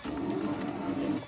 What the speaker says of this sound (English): After a false start, the old 3D printer's doing a good job.